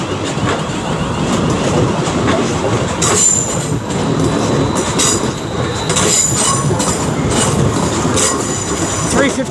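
A Class 350 electric train rolls through London Euston on the West Coast Main Line, loud and close, with rumbling wheels, rhythmic clatter over rail joints and brief high squeals.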